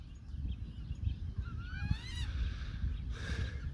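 Young goslings or ducklings of a wild waterfowl family give faint, thin rising peeps and a short chirping run against steady outdoor background noise, with no talk over them.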